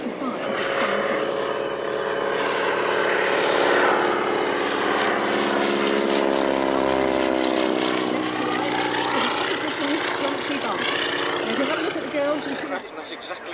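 Maritime, the world's largest single-engine biplane, drones loudly past at the Fairford airshow, its propeller engine a strong steady rumble that swells and then fades slightly, with an announcer talking over it throughout.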